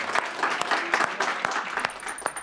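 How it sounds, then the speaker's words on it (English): Audience applause after speakers at a policy dialogue forum, sparse and uneven with individual claps standing out, fairly distant and moderate in level, lasting a couple of seconds. "please join me in applauding our speakers"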